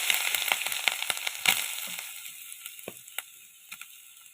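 Grated coconut crackles and sizzles as it hits a hot clay pot, a busy run of sharp pops and scraping clicks that gradually thins out into sparser crackles.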